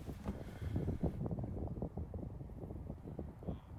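Wind on a disc golf course during a tournament round, a low rumbling buffet with gusty swells and scattered knocks, moderately loud, no voices.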